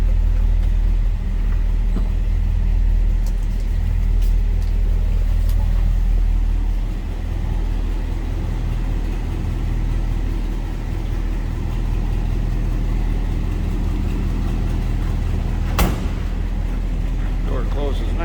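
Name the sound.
1956 Ford F100 pickup engine running, dual exhaust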